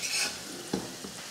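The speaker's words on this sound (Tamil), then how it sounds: "அதே போல் வெங்காயம், இந்த முள்ளங்கி எல்லாமே நல்லா வதங்கி வரணும்." Onion and radish sauté in a pan for a coconut-free chutney, giving a soft sizzle with a brief scrape of a stirring spoon, close and short.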